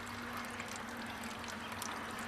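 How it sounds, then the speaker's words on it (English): Water running steadily from a valve at the back of a Cleveland Steamcraft III/V steamer, a faint continuous trickle and hiss over a low steady hum. "in the back here, we can hear we have some water running"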